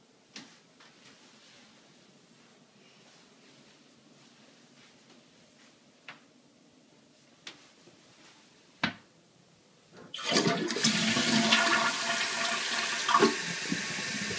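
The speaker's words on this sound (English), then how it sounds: "The toilet seems to be flushing properly and filling properly." A toilet with a newly installed fill valve flushes in a sudden loud rush, then the tank refills with steady running water, preceded by a few faint clicks and taps.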